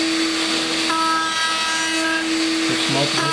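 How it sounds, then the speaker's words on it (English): Power tool making light cutting passes to bevel the inside of a wooden stave drum shell, a loud steady whine with sustained tones and shifting pitch near the end. "I'm taking light cuts off of this inside of the shell."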